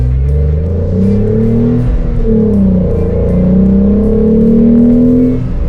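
A Renault Clio V6 accelerates in a straight line, its engine note climbing steadily through the revs with a brief dip at a gear change, loud and close from the cabin, no voices.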